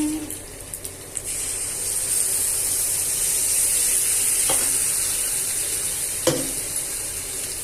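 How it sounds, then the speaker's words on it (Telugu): Ground gravy goes into a hot pan of mirchi curry, setting off a steady close sizzle and frying hiss with a few stirring clinks and scrapes, no talk. "ఆ తర్వాత రుబ్బిని గ్రేవీ పోసేసుకోవడమే."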